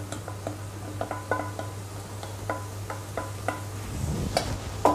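Mushrooms go into a pan to cook down for a duxelles, giving a run of light clinks and taps of a utensil against the pan over a soft, steady sizzle, with a louder scraping stir near the end.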